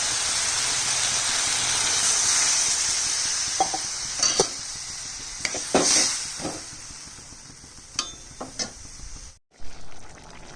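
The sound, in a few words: water poured into sizzling spiced vegetables in a pan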